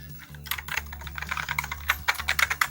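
Typing on the keyboard of a Commodore SX-64 portable computer, a quick run of close, clicky keystrokes in an uneven rhythm over a low steady hum, with no talk.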